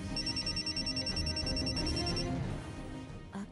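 A telephone rings with a rapid, steady electronic trill, continuous and moderately loud for about two seconds before stopping abruptly, with room tone remaining afterward.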